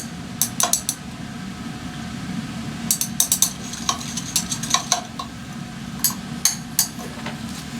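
A tea extract solution is stirred in lab glassware to dissolve it, with repeated light clinks and taps of the stirrer against glass in short clusters over a steady low background hum.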